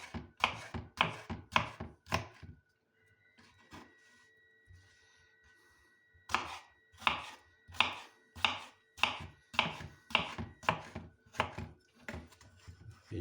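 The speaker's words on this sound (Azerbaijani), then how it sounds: "Beləcə doğradıq xiyarlarımızı." Cucumbers are sliced with a knife on a cutting board for a shepherd's salad, each cut giving a crisp, rhythmic chop. One quick run of strokes stops, then after a short pause a second, longer run resumes.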